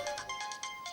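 A mobile phone rings with an incoming call, its bright electronic ringtone pulsing in quick repeated bursts, close and clear with no talk over it.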